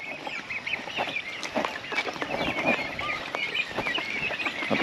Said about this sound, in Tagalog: Tapos yan yung mga pabo natin.